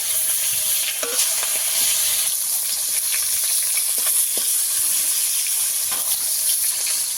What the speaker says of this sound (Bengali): মাছগুলো একটু ভালো করে ভাজা হয়ে গেছে একটু উল্টে দেবো